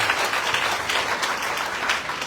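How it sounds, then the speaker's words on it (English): An audience at a political event gives another round of applause. The clapping is thick, continuous and fairly loud throughout. "Let's give her another round of applause."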